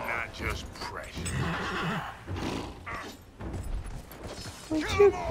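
Horse in the game Dragon Age Inquisition whinnying in bursts with hoof clatter, heard beneath a player talking over the game audio.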